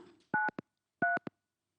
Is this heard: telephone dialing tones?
yes